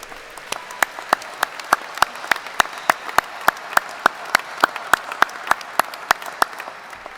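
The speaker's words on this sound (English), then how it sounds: "Graduates, please give your parents a round of applause." Graduates at a career and technical education completion ceremony clap for their parents, a steady, evenly spaced run of sharp claps that sounds like a single pair of hands close to the microphone.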